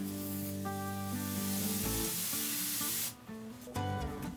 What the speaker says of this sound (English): Now that both the old and new wood, as well as the soil, have been thoroughly sprayed